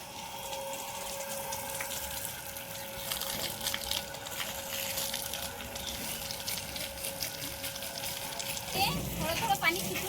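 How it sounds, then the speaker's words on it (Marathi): An electric water pump motor at a village home draws water from a tank, giving a steady low hum under continuous flowing water that splashes more loudly near the end. "मोटरची पिन लावून घेतो आता।"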